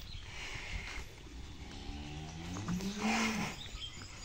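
Pegon cattle moo at a livestock show: a long, low bovine call swells and bends in pitch about two-thirds of the way through, rising out of steady background crowd noise and rumble.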